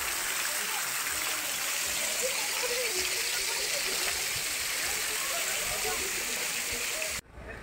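A modern waterfall in Sauraha, Chitwan, gives a steady, loud broadband rush of falling water that runs unbroken for several seconds and then cuts off abruptly near the end.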